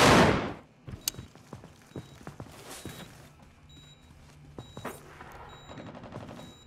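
Sniper and rifle fire in America's Army on a hospital map, a loud opening shot then a run of sharp cracks and distant pops spread irregularly across the scene.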